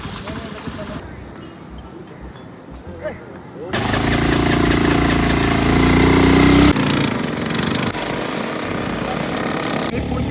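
A sports bike engine starts up loud and close partway through, a rough steady drone that follows quieter background noise and holds for several seconds before easing slightly.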